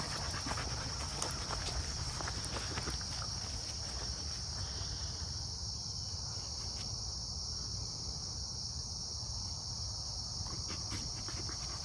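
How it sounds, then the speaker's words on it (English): Crickets chirp in a steady, high-pitched continuous drone across the whole stretch, with faint rustling and footsteps close by. "listen to those crickets"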